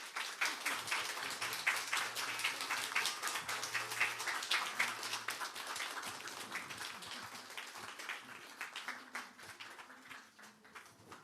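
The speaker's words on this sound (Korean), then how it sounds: "여러분, 나태주 시인님의 큰 박수 부탁드리겠습니다." Audience applause welcoming poet Na Tae-ju to a lecture at a seniors' centre opening, steady clapping that gradually fades toward the end, with faint background hum.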